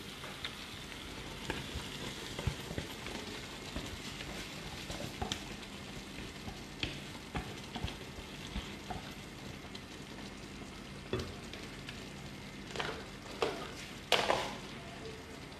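Tomato gravy with whole spices sizzling in a pan, a steady close frying crackle with occasional sharper pops and stirring clatter, no voices.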